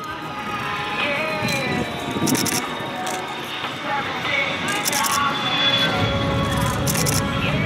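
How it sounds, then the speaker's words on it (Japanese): A JASDF C-1 transport aircraft makes a short-distance landing at the Miho Air Festival, its engine roar carrying steadily across the airfield under crowd noise and announcer-style talk, with camera shutter bursts clicking now and then. "最後に着陸する C1 は短距離着陸を行います。"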